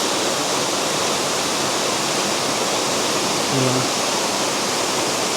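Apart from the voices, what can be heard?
waterfall at a nature park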